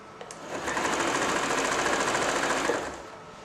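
A Janome J3-24 sewing machine runs steadily for about two and a half seconds, a fast even needle chatter that starts and stops cleanly, close and loud with no talk.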